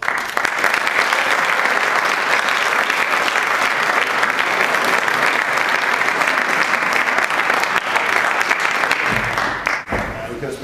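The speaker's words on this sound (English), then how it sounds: "So please tap your sticks, clap your hands to welcome one of the real good guys in the game, Mr. Barry Melrose." Applause from a school audience welcoming a former hockey player and coach as guest speaker, dense sustained clapping that holds steady for about nine seconds before fading out.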